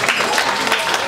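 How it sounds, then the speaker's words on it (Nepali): Audience applause at a public gathering, a dense, steady wash of many hands clapping close by and filling the whole moment without pause. "एकचोटि जोरजार ताली बजाउनु"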